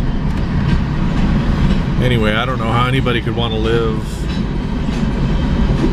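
A train rolls steadily along a railway line, a constant low rumble heard from on board beneath a person talking.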